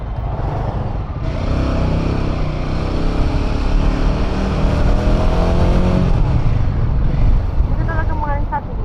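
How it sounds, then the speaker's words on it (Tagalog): Heavy road traffic heard from a Royal Enfield Himalayan 450 motorcycle on a family ride to La Union, a loud, continuous engine and road rumble with voices talking over it and a short horn-like tone near the end. "Ito na yung matinding traffic."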